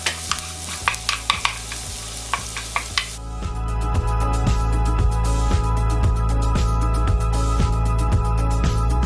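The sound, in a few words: onion and garlic sautéing in olive oil and butter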